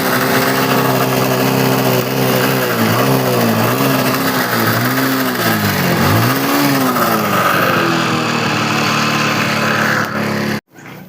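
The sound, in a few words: Hero Splendor motorcycle engine kick-started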